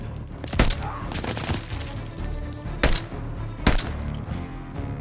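Gunfire from Call of Duty: Vanguard, with several loud sharp shots standing out over a continuous bed of game music and effects, at irregular intervals through the stretch.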